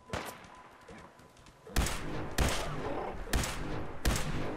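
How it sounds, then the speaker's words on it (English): A quiet stretch in Fallout 4, then sharp gunshots crack out in a loose series of four or five loud bursts, roughly evenly spaced, over a faint background bed. "Wait, there were gunshots coming from behind me."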